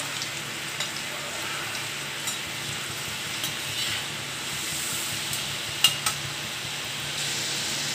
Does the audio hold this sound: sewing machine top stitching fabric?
no